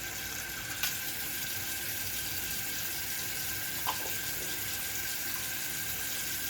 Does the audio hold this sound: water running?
yes